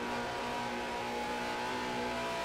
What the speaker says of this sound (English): Very good downshifting.